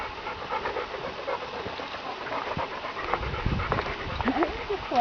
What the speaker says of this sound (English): And there's another big bad dog.